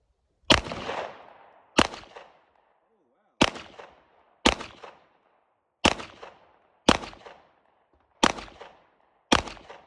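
Eight loud pistol shots from a Glock 19X with a Binary G-flex trigger with a heavy pull, fired one at a time with gaps of roughly a second, each a sharp crack with a short ringing decay.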